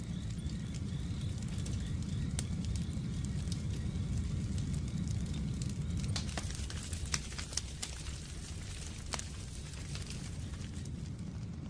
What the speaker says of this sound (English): Just a little spark sets the bush ablaze.